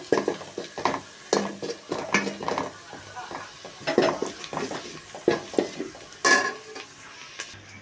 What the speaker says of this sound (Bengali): মাংসটাকে কষিয়ে নেবো আলু দিয়ে